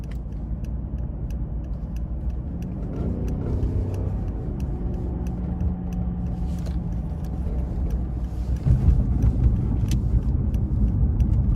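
A 2014 Mercedes-Benz S550 4MATIC accelerates in a straight line from inside the cabin, with a steady low engine and road rumble that swells slightly as speed builds, and a rise near the end.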